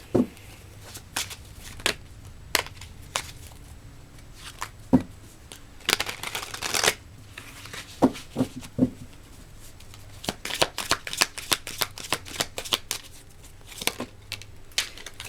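Tarot cards being shuffled by hand, a run of crisp riffling snaps and papery flutters in irregular bursts, close and fairly quiet, with no talking.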